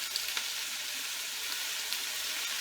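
Garlic frying in a pan gives off a steady, even sizzle with faint crackles and pops, heard alone at a low, consistent level.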